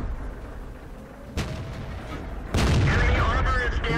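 Heavy tank cannon shots from a Panther in World of Tanks, two loud booming blasts about a second apart, the second followed by a rumbling, ringing tail over constant battlefield engine noise.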